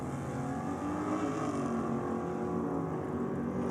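A Chevy-powered drag racing car on nitrous makes a run at a no-prep drag strip, its engine a loud, sustained roar that holds steady throughout, heard from trackside with no talk over it.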